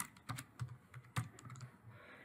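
Keys on a computer keyboard clatter in quick, uneven bursts while data is entered into a spreadsheet, close and fairly quiet, with no voices.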